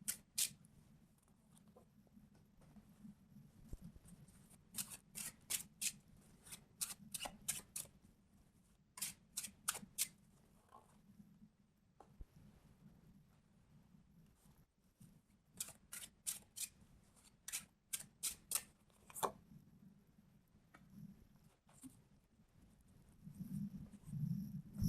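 Tarot cards being shuffled and drawn, crisp papery riffles and snaps coming in quick bursts with quiet gaps between, close and fairly soft, with no talking.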